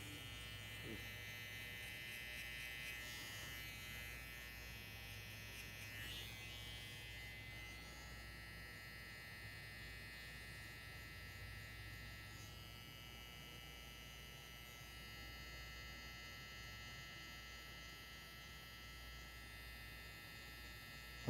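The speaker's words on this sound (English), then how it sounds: "I think anybody can take a trimmer and just literally do this with it." An electric trimmer blends a beard into a haircut, giving a steady close buzzing hum that runs the whole time with slight shifts as it moves.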